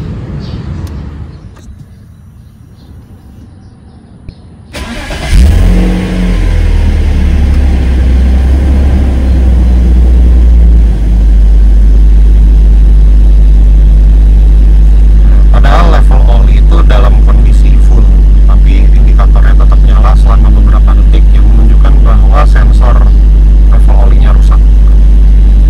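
A BMW E46 with a faulty oil level sensor cranks and fires up about five seconds in, then settles into a loud, steady idle close by, with a person talking over the running engine.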